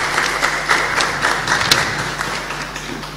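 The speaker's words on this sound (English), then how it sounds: "Let's have a round of applause for Mr." Audience applause at an anniversary lecture series panel in Dominica, steady dense clapping from a seated crowd filling the room, even and sustained without pause.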